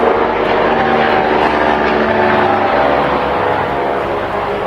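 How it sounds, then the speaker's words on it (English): A low-flying aircraft passes overhead on its approach path toward Sydney's Mascot airport, a loud, continuous engine roar that holds steady throughout with no talk. "they seem to use our flight overhead as the flight path to swing around, and they go out to sea and then come around into Mascot"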